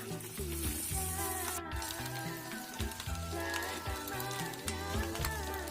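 Salted peda fish on the grill, doused with spiced oil, crackles with a steady close sizzle under background music with a clear beat and melody.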